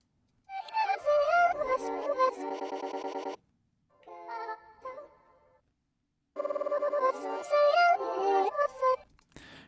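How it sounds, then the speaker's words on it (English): Chopped, glitchy vocal sample from Splice played dry with no plugins: stuttering, pitched vocal fragments in bursts with gaps between, bright and close, sounding almost like a chirpy ringing tone. "we've got this vocal sample that I got from Splice"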